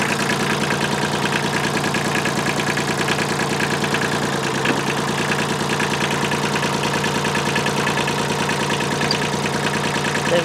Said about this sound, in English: so we use the tractor